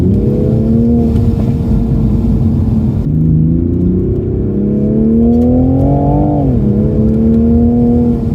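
A Mk5 Toyota Supra engine drones loudly from inside the cabin on a mountain road, its pitch climbing steadily as it accelerates through the gears, then dropping at a shift.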